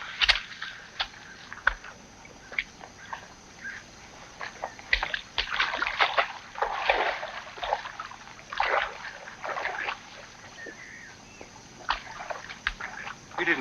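A small motorboat is pushed and dragged into a river, giving irregular splashes and sloshing of water against the hull, close by, with uneven bursts and brief quieter pauses.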